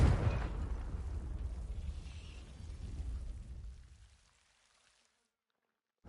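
A Confringo blasting spell goes off in the Hogwarts Legacy video game: a loud, close burst with a rumbling low roar that sustains for about four seconds, then cuts to near silence.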